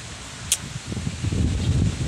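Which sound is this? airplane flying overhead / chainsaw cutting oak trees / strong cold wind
strong cold wind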